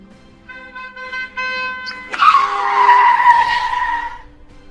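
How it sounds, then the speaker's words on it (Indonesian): A car speeds through the street at night, a rising engine whine giving way to a loud, sustained tire screech as it skids, fading out after a couple of seconds. "Siapa sih bawa mobil ngebut-ngebut dan malam-malam juga?"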